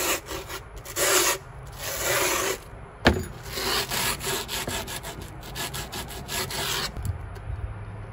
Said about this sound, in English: file the edges down.